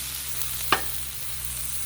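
Beef fried rice fries on a Blackstone griddle with a steady, even sizzle, broken once by a short sharp scrape of a spatula against the flat-top.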